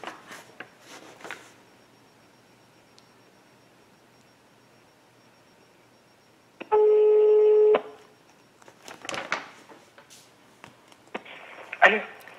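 A telephone call placed to a subscriber, with a steady dial tone lasting about a second, then ringing and faint tones, amid quiet stretches and brief speech before and after.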